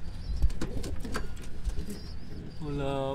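Janssen Huben breeding pigeons in a loft give low, throaty coos that become clearer toward the end, mixed with rustling and someone talking close by.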